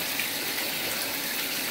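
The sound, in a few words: bathtub faucet running water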